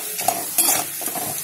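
Curry leaves and ginger fry in hot oil with a steady crackling sizzle and a few sharper spits, up close, while a spoon stirs through the pan.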